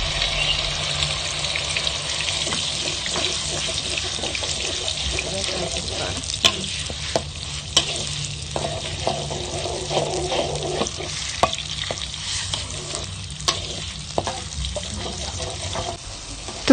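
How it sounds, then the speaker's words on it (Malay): Steady, loud sizzling and crackling of ground chili frying in hot oil in a wok, with occasional sharp pops and scraping stirs throughout. "Setelah minyak agak panas, tuangkan cili yang dikisar di dalam kuali."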